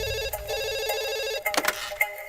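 A telephone bell rings in a steady warbling pattern, then stops with a few clattering handling noises as the receiver is picked up in a comedy scene.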